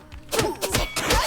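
Launcher attack hits in the beat-'em-up video game River City Girls 2, a few dull, punchy thumps landing in quick succession, close and fairly loud, with no one talking.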